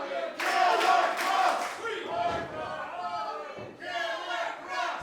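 A wrestling crowd at a Maverick Wrestling match between Bob Holly and Killer Kross roars and chants loudly, swelling and dipping, with voices split between the two sides.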